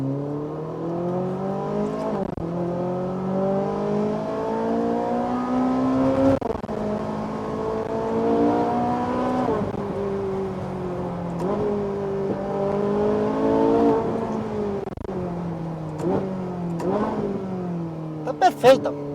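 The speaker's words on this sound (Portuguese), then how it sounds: "que eu quero sentir." A Ferrari 458 engine revs repeatedly during a pre-purchase test drive, several rising and falling sweeps with strong harmonics, loud and close, with a few sharper blips near the end.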